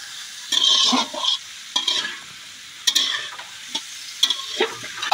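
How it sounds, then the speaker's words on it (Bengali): Potatoes and eggplant are stirred and fried in a spice masala, making close sizzling with scraping stirring strokes in about five repeated bursts, with no voices. "আলুটা আর বেগুনটা দিয়েও মশলার সাথে কিন্তু খুব ভালোভাবে কষিয়ে নিতে হবে"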